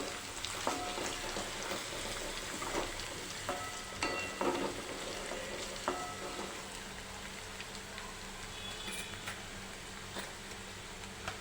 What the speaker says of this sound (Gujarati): આપણે તેમાં લીલી ડુંગળીના પાન લીધેલા છે તેને પણ આપણે સાતોઈ લઈશું